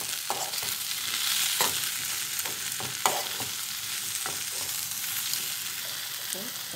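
Brinjal being stirred with rock salt in a pan, a steady scraping stir over a soft continuous sizzle, with a few sharper clicks of the spoon against the pan.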